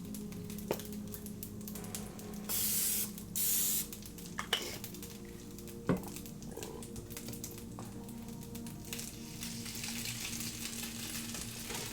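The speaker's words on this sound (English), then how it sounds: "Oh, spray it again." Cooking spray hisses onto a waffle iron in two short bursts, close and fairly loud, with faint sizzling and clicks in a quiet kitchen between them.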